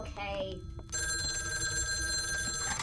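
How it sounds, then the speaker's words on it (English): A telephone rings as a sound effect in an audio play, its steady bell tone starting about a second in and continuing to the end, fairly loud, with a short line of dialogue just before it. "Myra, answer the phone, please."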